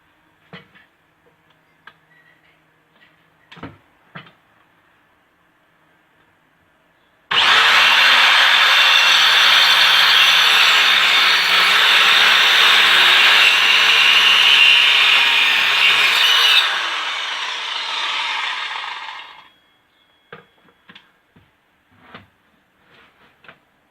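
Wood being cut on a saw to make shelf boxes: one steady, loud rasping cut of about twelve seconds that tapers off at the end, with light workshop taps and clicks before and after.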